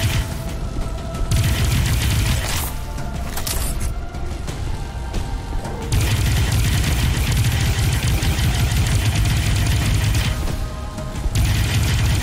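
Loud first-person shooter combat in the game Prodeus: booming explosions and rapid bursts of gunfire roll continuously, with dense, heavy layered blasts and brief dips before the barrage resumes.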